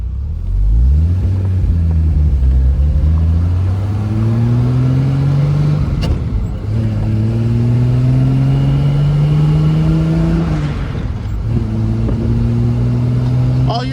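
A 1973 Triumph TR6 engine drones loudly from inside the cabin while driving, climbing in pitch through each gear, then dropping at the shifts, around three changes, over a low rumble.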